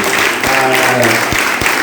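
Church congregation applauding its pastors during a Sunday service, a steady wash of clapping from a large crowd with music sustained underneath.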